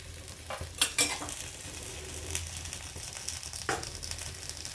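Sprouted green moong appe sizzle in a little oil in an appe pan after being flipped, a steady close crackle with a few sharp clinks of a utensil.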